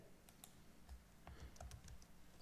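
Someone types on a computer keyboard, entering a URL in a programming setup. The quick key clicks and taps come in an uneven burst that is close but quiet, with no voice.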